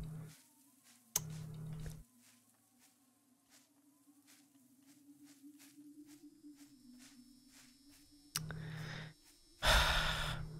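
A lurking creature in the horror game Labyrinthine breathes heavily, with loud ragged gasps and sighs bursting in at the start and the end around a long quiet, droning stretch.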